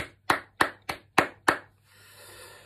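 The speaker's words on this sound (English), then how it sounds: "Can we give her a round of applause?" Five loud, evenly spaced hand claps ring out close by at a school celebration assembly for a pupil, then fade into a soft wash of room noise.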